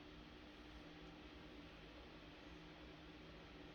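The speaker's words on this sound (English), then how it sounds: "If you like sleeping with a little bit of white noise, this would be perfect, because the wind noise of it is calming." Bell + Howell Socket Fanlight fan runs on high speed, a steady airy whoosh with a faint low motor hum, constant and quiet with no voices.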